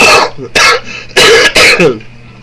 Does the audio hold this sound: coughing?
yes